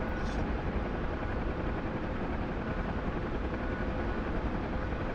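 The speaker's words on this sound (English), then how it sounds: "The guy in this or this Alouette helicopter, he was out over the water somewhere." An Alouette helicopter flying out over the water, a steady, dense rotor-and-engine roar that holds at an even level throughout with no voices.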